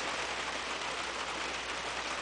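Steady rain falls during a July storm, a dense even hiss of drops on surfaces running unbroken throughout, fairly soft and with no voices over it.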